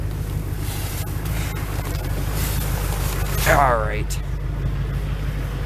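A car engine rumbles steadily at idle after a cold start, low and continuous with wind buffeting the microphone, while someone speaks briefly over it.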